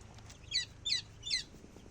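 Young chicks let out three high, thin cheeps spaced evenly about a beat apart, faint and close against a quiet background.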